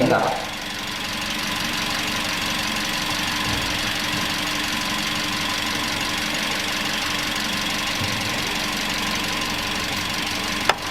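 A car engine idles steadily with the air conditioning running at maximum, giving a constant mid-pitched hum and rattle with a faint whine. Close and continuous, it holds the same level throughout.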